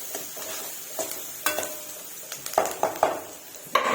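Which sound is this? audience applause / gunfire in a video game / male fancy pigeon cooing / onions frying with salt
onions frying with salt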